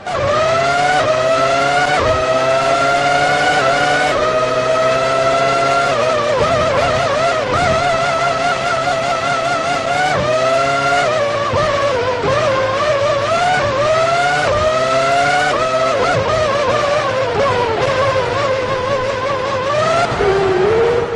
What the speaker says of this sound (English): And the two cars touch. A definite coming together.